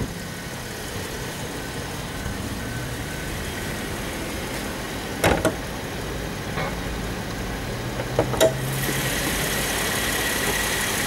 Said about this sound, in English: the bonnet and let you listen to the engine.